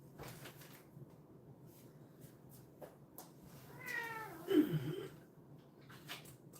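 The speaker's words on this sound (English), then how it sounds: "I gotta feed my cat, guys." A hungry house cat gives a single drawn-out meow midway through, close and fairly quiet, with faint rustling and breathy handling noise around it.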